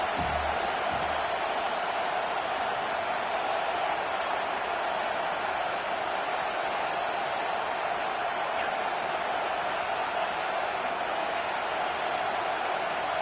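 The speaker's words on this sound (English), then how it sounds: "Decibels rising as the crowd gets behind this defense on 3rd down." Football stadium crowd at a Vanderbilt versus South Carolina game cheering and roaring as the defense lines up on third down, a steady, dense wall of noise that holds throughout without pause.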